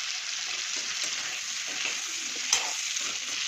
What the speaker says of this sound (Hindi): इसको अच्छे से ऐसे चला दे रही हूँ ताकि चारों तरफ से तेल लग जाए सब में और वो अच्छे से फ्राई हो जाए